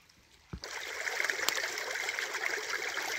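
The Korabiewka, a small river in Bolimów Landscape Park, flows with a soft steady rushing and trickle that begins after a brief click and continues at a low, even level outdoors.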